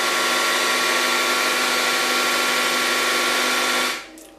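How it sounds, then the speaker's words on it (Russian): A television in a home in Spain makes a loud, steady broadband whirring hum as it shuts off, holding for about four seconds before cutting out abruptly into near silence. "Это у нас так телек вырубается."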